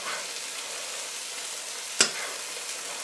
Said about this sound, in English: have it be basting and grilling on this side for about 3 to 4 minutes